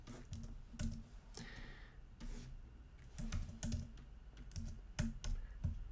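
Close, crisp computer keyboard typing while a tab name is entered, taps coming in small irregular bursts with brief pauses between them, over a faint background hum.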